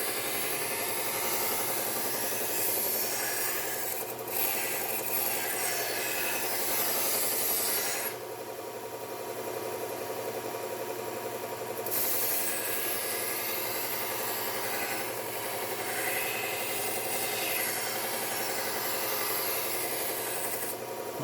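A knife blade is rubbed steadily against P120 abrasive during sharpening, producing a continuous, close, even rasping grind with a brief change in texture partway through.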